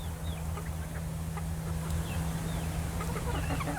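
Aseel chickens clucking after being fed a piece of jaboticaba fruit, faint scattered clucks and short calls over a steady low hum.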